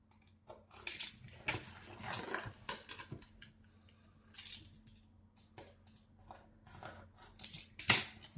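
Scissors snip through a thermal pad for an RTX 3080 10GB Founders Edition graphics card, giving a run of close, crisp cuts in irregular bursts with a sharp louder snip near the end.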